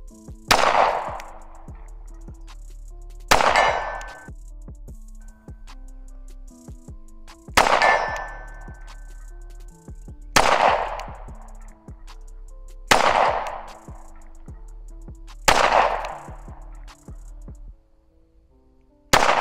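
Shadow Systems CR920 pistol fired at a shooting range: about seven loud single shots, spaced roughly two to three seconds apart, each with a sharp crack and a lingering echoing decay.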